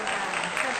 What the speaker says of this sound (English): Actually, I deserve a round of applause.